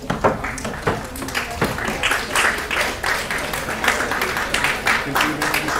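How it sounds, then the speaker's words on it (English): Audience applause at a college prize distribution ceremony for a top student, moderate clapping over a steady low hum, sustained throughout. "Have a round of applause, please."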